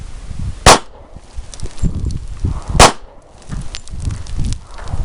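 Two sharp, loud gunshots about two seconds apart, each a sudden crack over a steady background of low rumbling and shuffling.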